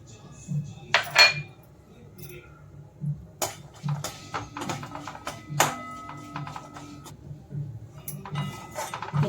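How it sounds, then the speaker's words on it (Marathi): Walnuts dry-roasting in a pan for dry-fruit protein laddoos, with a utensil clinking and scraping against the metal in close, intermittent taps over a low background hum. "अक्रोड भाजून घेऊया।"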